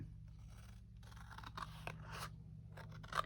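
Scissors cut through thick packaging material up close, with a handful of faint snips and crunching cuts over a low steady background hum.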